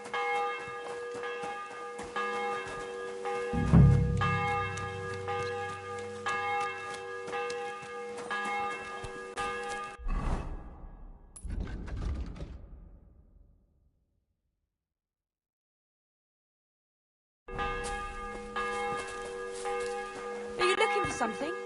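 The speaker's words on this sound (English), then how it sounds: "The bell's ringing for hands the fifth time." Church bell tolling in the video game Kingdom Come: Deliverance 2, repeated strikes ringing out loudly with game ambience, cutting out briefly into silence before resuming.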